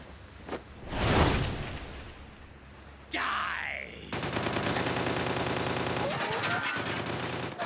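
Gunfire in the video game Metal Gear Solid 4: a sustained, loud burst of rapid automatic shots with whooshing effects, following a swell of noise and a brief pause.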